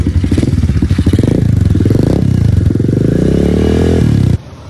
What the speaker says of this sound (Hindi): अभी मुन्ना भाई बाइक को स्टार्ट करेंगे।